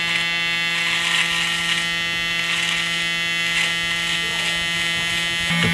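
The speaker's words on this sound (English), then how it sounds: "I'm gonna use my Evo trimmer and I'm gonna start right here at the center" An Evo electric beard trimmer buzzing steadily at close range as it trims a beard, a constant motor whine with slight shifts in pitch as it moves through the hair.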